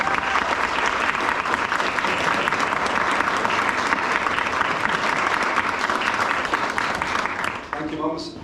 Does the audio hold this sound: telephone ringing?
no